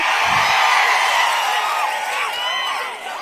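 A political rally crowd roars with cheers, whoops and shouts, loud and sustained, as if massed together before tapering slightly at the end; no distinct clapping rhythm stands out.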